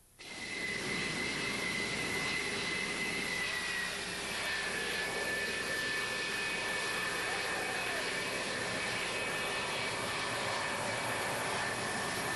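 Allied military aircraft flying in the Desert Storm air assault, a steady loud jet engine roar with a sustained high whine that holds throughout.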